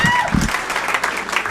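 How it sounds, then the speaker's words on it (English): A live comedy show audience applauds loudly, dense clapping and crowd noise filling the short stretch, with a brief voice at the start under the applause. "Give yourselves a big round of applause for coming out"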